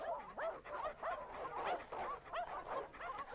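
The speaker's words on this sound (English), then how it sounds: "As her footsteps faded, the sound of growls grew louder." Hounds bark and yip in quick, overlapping bursts in the visual novel game Witch on the Holy Night, a steady, fairly close chorus filling the whole stretch with no talk over it.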